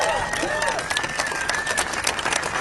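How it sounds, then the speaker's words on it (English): Applause and cheering from a crowd at a Harvard rally supporting international students, a dense continuous patter of clapping with a few whistles across the whole moment. "Got another immense round of applause for Professor Ryan Enos."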